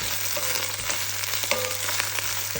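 Spinach sautéing in a pan, with a steady close sizzle and frying crackle and occasional soft scrapes of stirring.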